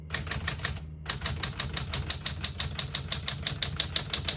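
Rapid typing on a 1968 Smith-Corona Super Sterling portable typewriter: close, crisp keystrokes in a quick even run, a brief pause, then another steady burst of about two dozen strikes.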